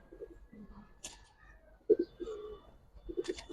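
Giribaz and coloured pigeons coo softly in short, separate bursts, a few throaty calls spaced across a quiet background.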